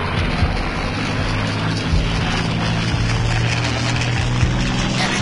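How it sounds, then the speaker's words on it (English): Loud, continuous droning of propeller fighter planes and bombers in a Pacific air combat game, steady engine hum filling the scene without talk. "Enemy airplane approaching!"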